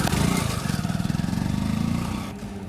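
A motorcycle on a deserted road at night idles and creeps slowly away, its engine thudding in a steady, fairly close pulsing rhythm that fades slightly near the end.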